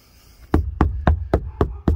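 Six hollow knocks on a car's metal roof panel without sound deadener, evenly spaced and close, each a dull thud with no talking.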